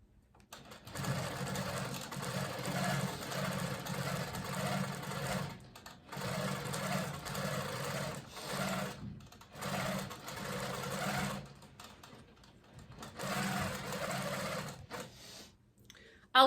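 Longarm quilting machine stitching binding onto the back of an upside-down quilt, a steady rapid mechanical hum-and-tap in several long runs separated by short pauses, moderately close with no talking.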